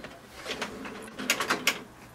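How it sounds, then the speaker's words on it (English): The front output tray of an HP DeskJet Plus 4100-series printer is pulled open, giving a few close, fairly quiet plastic clicks and ratcheting snaps that cluster toward the end. "Open the output tray which is at the front."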